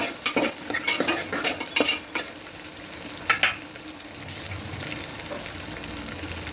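Garlic and bay leaves are stirred in a hot pan, a quick series of metallic spoon scrapes and clinks over a low sizzle, then a couple more knocks before the sizzling carries on alone.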